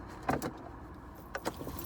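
Someone climbs into a car on leaving a friend's house: a solid thump near the start, then a second pair of muffled knocks a second later over quiet cabin hush.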